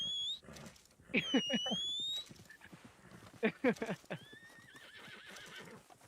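Horses neighing in Red Dead Redemption 2 online, several loud whinnies with shrill rising tones and snorts, separated by short pauses, with soft hoof and ambient game sounds between them.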